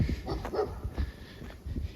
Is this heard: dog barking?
yes